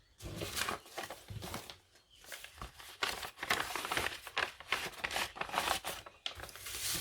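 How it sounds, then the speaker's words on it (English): Paper cut with decorative fancy scissors, a series of close, crisp snips and rustling crinkles coming in irregular bursts, with short pauses between cuts and no speech. "use the fancy scissors."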